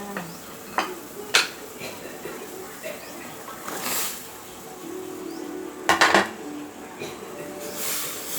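Metal utensils clink and scrape against a cooking pot in scattered bursts as water spinach is stirred into boiling water for a sour curry, with someone talking intermittently.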